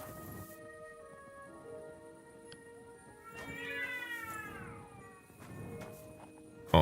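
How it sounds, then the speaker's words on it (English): Cats caterwaul in a fight in the video game Kingdom Come: Deliverance, giving a drawn-out, wavering yowl in the middle, set against quiet ambient game sound and a few soft thumps. "What are these cats doing?"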